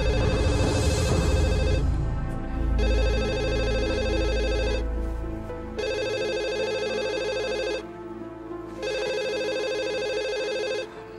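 A home telephone rings loudly at midnight with long electronic trills, three or four rings separated by short pauses, over a low background hum.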